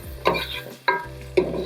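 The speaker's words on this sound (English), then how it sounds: "you're just gonna pour them in here and basically get them all coated with this sofrito mixture" Spoon stirring gandules (pigeon peas) into sofrito in a pot: three soft scraping, sizzling strokes spaced about half a second apart, close and fairly quiet.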